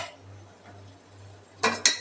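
An idli steamer pot of boiling water hums softly before two sharp metallic clinks ring out in quick succession as dough balls are set inside.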